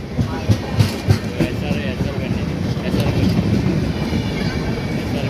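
A Southern Railway coach train rolls past on the Vijayawada–Chennai mainline near Kolakaluru, giving a loud, close, rumbling wash with rhythmic wheel clatter. Voices talk over the passing train.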